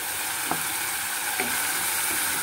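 Punjabi chana masala with amchur sizzling steadily in a pan, a constant close frying hiss with a few faint spoon scrapes and taps as the mixture is stirred.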